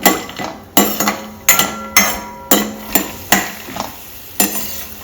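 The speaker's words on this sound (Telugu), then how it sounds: "ఇప్పుడు నూనె వేసిన తర్వాత పల్లీలు వేసుకుంటున్నామండి" Peanuts tossed into hot oil in a pan and stirred, with about eight sharp clattering strikes of a utensil against the pan at a steady rhythm, each followed by a brief sizzle, close and fairly loud.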